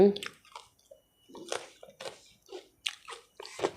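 Close, crisp chewing of dried fruits and vegetables, with several short crunching bites in an irregular rhythm and soft mouth sounds between them, fairly quiet with no talking.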